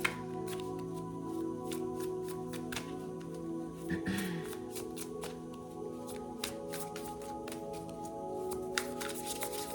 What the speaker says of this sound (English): Shuffling for Virgo.